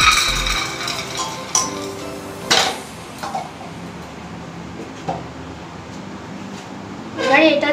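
Soaked dal and kidney beans are tipped into a pressure cooker, giving metallic clinks and a rattling clatter against the pot, with a couple of louder bursts, while someone speaks over it.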